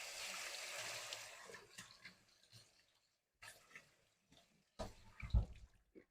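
Native tamarind fruit is rinsed in water, giving a steady wash of splashing that breaks into irregular sloshes and drips, with a louder splash and clunk near the end; nobody speaks.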